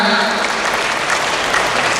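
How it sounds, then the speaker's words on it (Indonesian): Audience applause for the Indonesian military (TNI) at a speech on unemployment, a dense, steady wash of many hands clapping loudly and evenly throughout without a break. "Tepuk tangan buat TNI ya sekarang ya."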